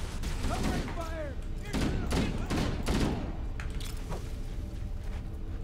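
Rapid bursts of gunfire from the video game Halo: Combat Evolved, with several loud close volleys and thuds in quick succession, while a voice speaks over parts of the action.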